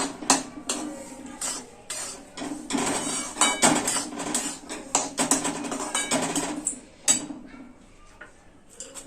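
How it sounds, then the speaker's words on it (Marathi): A spoon stirs semolina and cardamom powder in a bowl for rava ladoo, giving quick, irregular close scraping and clinking against the dish that rises and falls throughout, with no talk over it. "आता आपण या रव्यामध्ये 1 चमचा वेलची पावडर टाकूया आणि हे छान मिक्स करून घ्यायचं असं."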